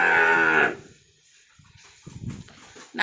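Wagyu crossbreed calves moo loudly and close at a calf sale, one long drawn-out call followed by quieter shuffling and a fainter second bellow.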